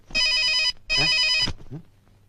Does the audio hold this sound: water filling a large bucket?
no